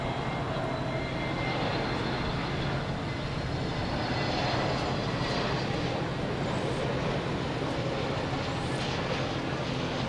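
A Boeing 747 taxiing at night at DFW Airport, its engines a loud, steady broadband roar that holds unbroken throughout, with no voices.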